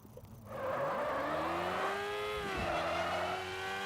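Race car engine in a driving video game, revving hard with a rising, sweeping pitch and a brief dip around a shift, loud and close after a short quiet start.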